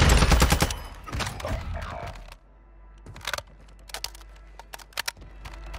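Gunfire in the video game Warzone 2: a dense burst of rapid automatic shots at the start, then a pause and scattered short bursts and single cracks, loud and close.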